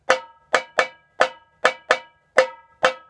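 Unmuted tambourine in a samba batucada pattern: eight sharp strikes with jingles ringing out and decaying between hits in a swinging rhythm, close and alone.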